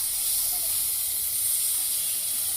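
Squid pieces dropped into a hot pan of chili and coriander masala give a steady, loud, close hiss that holds evenly throughout with no talking.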